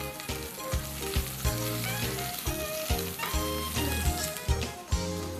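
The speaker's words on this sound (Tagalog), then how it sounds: "Gisahin natin yung luya." Ginger sizzles and crackles in hot oil as it is sautéed for bulalo rice porridge, with a steady, close frying hiss and occasional stirring knocks.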